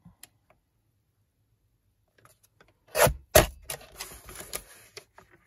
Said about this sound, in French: Avec la guillotine, c'est vrai que ça fait quand même du bruit